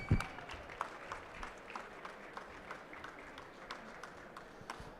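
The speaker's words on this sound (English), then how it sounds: "Let's give everyone a round of applause for making it to the third Rare Evo." Faint, thin applause from an audience at the third Rare Evo event, scattered claps rising over a low room murmur for several seconds, with a few sharper claps standing out.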